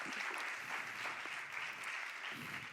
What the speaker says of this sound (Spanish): recibimos a los dos con un aplauso